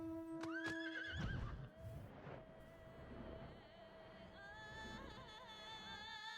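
A purple horse mount in a Final Fantasy game gives a couple of quick whinnies, then clip-clops along under steady game music and ambient effects, all fairly faint.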